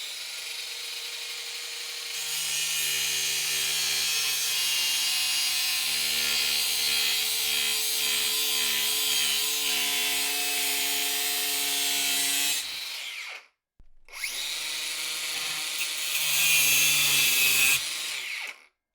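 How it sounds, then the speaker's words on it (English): A Bosch GWX 18V cordless X-Lock angle grinder cuts through overlong bolts, a loud, steady high-pitched grinding whine that runs for about twelve seconds, stops briefly, then resumes for a few more seconds. "they need cutting off. So perfect job for an angle grinder."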